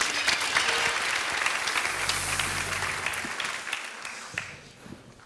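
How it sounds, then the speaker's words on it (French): An audience at a Master in Finance graduation ceremony claps steadily, dense applause that holds strong and then fades near the end, with a brief low murmur in the middle. "On peut applaudir encore une fois, s'il vous plaît?"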